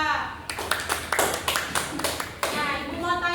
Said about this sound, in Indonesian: Oke, beri tepuk tangan untuk Syifa.